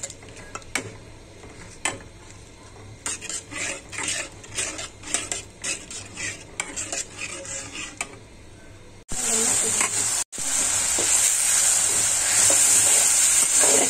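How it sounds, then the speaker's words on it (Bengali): Turmeric, chili powder and salt spice mix being stirred and fried in a pan, with repeated metal clinks of a utensil scraping the pan, then a loud steady sizzle near the end. "দিয়ে আমি ভালো করে নেড়ে কষিয়ে নিচ্ছি।"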